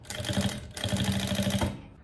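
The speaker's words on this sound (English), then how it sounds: "I'm going to do the zigzag stitch and the top stitch for this leg" A sewing machine runs a zigzag stitch and a top stitch along a leg of two-tone jeans, a rapid, steady mechanical chatter close up, pausing briefly midway before running on and then stopping.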